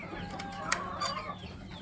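White and black Leghorn chickens cluck in a backyard pen, their steady overlapping clucking joined by one sharp, louder squawk partway through.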